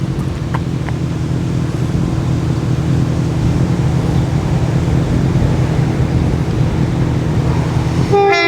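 A CrossCountry train rumbles through a station, its loud, steady roar of wheels and engine dominating up close. A brief horn-like tone sounds at the very end.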